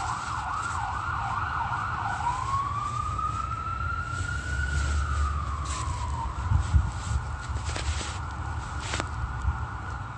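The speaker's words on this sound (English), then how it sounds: "7:15, that's the fire department, sirens." A wailing fire department siren rises and falls nearby, sweeping up and down over traffic rumble, then shifting to a faster pattern.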